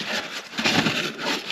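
Stiff drill-mounted brush scrubbing a car door panel during detailing, a steady close rasping scrub with slight surges in intensity and no talk.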